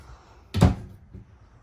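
A cabinet door in a 2019 Wildwood FSX 210RT toy hauler RV shuts with a single sharp wooden thunk, close and brief, followed by a faint softer knock in a quiet room.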